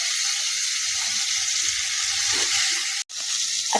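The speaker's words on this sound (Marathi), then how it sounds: "आता आपण त्यात टमाटर टाकून घेऊया। टमाटर पण छान असं मॅश होऊ द्यायचं," Tomatoes added to garlic frying in a pan for methi bhaji, a loud steady sizzle with soft stirring scrapes and a brief cut partway through.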